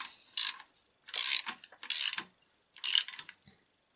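A 17 mm wrench ratchets tight on the alternator pivot bolt of a Renault 4L with a Cléon engine, four short close clicking bursts in an uneven rhythm, otherwise quiet.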